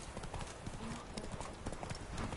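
Roach, the horse in the video game The Witcher 3, trotting with steady, close clip-clop hoofbeats and rustle over a continuous outdoor ambience, without any talk.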